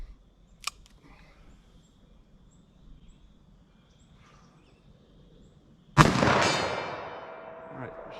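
A single loud, close rifle shot from a Winchester Big Bore lever-action chambered in .357 or .44 Magnum, a sharp crack followed by a long fading echo after several seconds of quiet outdoor ambience.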